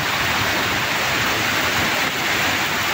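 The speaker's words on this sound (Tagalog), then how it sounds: "kuhanan ko na lang ulit itong sapa din sa ayan, saglit lang bumubulwak na naman" A rain-swollen creek gushes in a steady, loud, dense rush of water, close by and continuous with no pauses, alone without voices.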